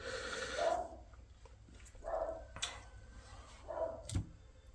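A small pet dog gives three short, fairly faint barks or yips spaced about a second and a half apart, with light ticking and clicking noises in a quiet indoor room.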